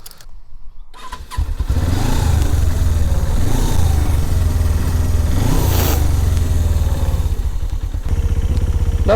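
A Suzuki GS500F motorcycle starts after a brief crank and settles into a loud, close, steady idle, its twin-cylinder putter even, with a couple of slight revs partway through.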